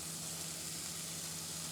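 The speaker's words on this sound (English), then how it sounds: "You hear that sizzle?" Bacon pieces sizzle steadily in a frying pan, a constant close crackling hiss with no voices over it.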